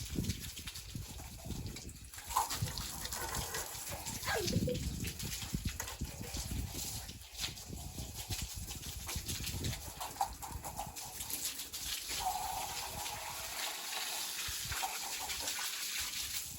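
Water sprayed over an iron balcony railing, a continuous rushing spatter with shifting intensity and occasional knocks and splashes, heard throughout at moderate level with faint voices now and then.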